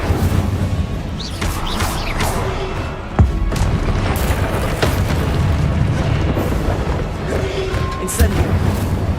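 A fire spell cast in the video game Hogwarts Legacy, a burst of flame with a sharp boom partway through, set in dense, continuous combat noise.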